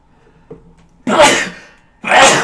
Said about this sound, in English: Oh, sneeze is coming.